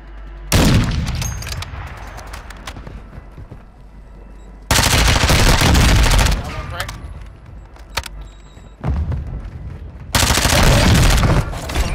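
Bursts of loud gunfire from Call of Duty: Modern Warfare II, sustained automatic volleys broken by short pauses, close and dense, with game voices calling out over the shooting.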